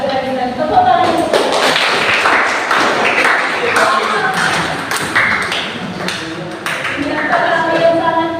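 A class of students claps hands together in applause, a dense, steady patter of many close hands lasting throughout, with a teacher's voice heard over it.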